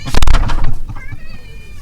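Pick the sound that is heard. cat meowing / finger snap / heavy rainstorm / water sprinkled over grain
cat meowing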